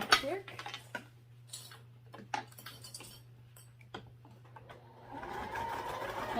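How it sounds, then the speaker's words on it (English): A sewing machine stitching across a handmade fabric sling strap: quick runs of mechanical needle clatter broken by short pauses and clicks, with a low steady motor hum beneath and a rustle of fabric at the end. "I'm going to sew across real quick."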